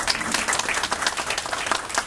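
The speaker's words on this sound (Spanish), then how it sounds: "Un fuerte aplauso para Víctor Hugo." Audience applause at a press conference for an indoor football event in Trujillo: dense, steady clapping from a crowd filling the whole stretch at even loudness, with no voices over it.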